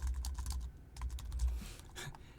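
Quick bursts of keystrokes clatter on a computer keyboard, close and fairly loud. The typing comes in uneven clusters with short pauses between them, and no voices are heard.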